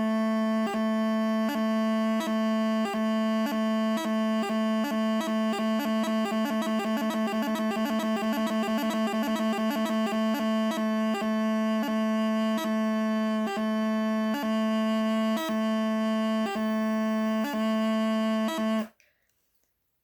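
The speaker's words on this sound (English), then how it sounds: "So a speed exercise on a GDE triplet might sound something like this." A piper plays a GDE triplet speed exercise, starting slowly and ramping up, then slowing again, over a steady sustained drone, with rapid repeated grace-note articulations, loud and close, cutting off abruptly near the end.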